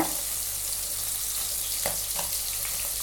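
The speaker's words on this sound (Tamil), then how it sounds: "பன்னீர் வந்து நெய்யில் ஒன் சைடு ஃப்ரை ஆன பிறகு மெதுவாக திருப்பி போட்டுக்கோங்க." Paneer pieces fry in ghee in a pan with a continuous close hiss and crackle, plus a couple of soft clinks from turning them. No speech is heard.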